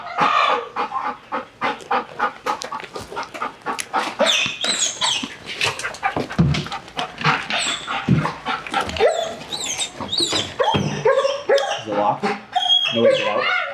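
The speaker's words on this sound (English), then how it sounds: "The dog's barking." A dog barks repeatedly indoors alongside clucking chickens, busy overlapping animal noise that is loud and close, with people talking over it.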